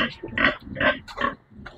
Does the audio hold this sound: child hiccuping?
no